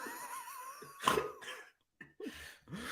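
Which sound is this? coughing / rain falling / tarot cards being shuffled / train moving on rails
coughing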